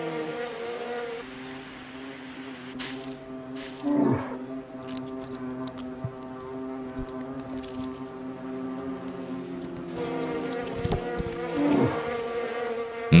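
A swarm of wild bees defending their hive from a young Asian black bear in forest produces a loud, dense buzzing drone with shifting pitches as insects fly close past.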